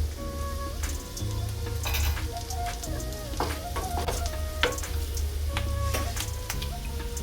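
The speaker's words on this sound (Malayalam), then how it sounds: "ഇഞ്ചി വെളുത്തുള്ളി നല്ലപോലെ മൂത്ത് വരുന്ന സമയത്ത് ഒരു 2 പച്ചമുളക് ഇതേപോലെ കട്ട് ചെയ്തിട്ട് കൊടുക്കുന്നുണ്ട്" Ginger, garlic and green chillies sizzle loudly in oil in a frying pan while making egg noodles. The hiss is constant, with a spoon or spatula clinking and scraping against the pan as the mix is stirred.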